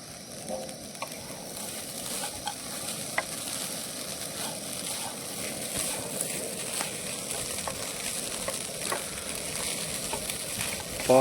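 Poha (flattened rice) with peanuts and coriander is stirred in a hot pan, giving a soft continuous sizzle with faint scraping and occasional light clicks of the spoon.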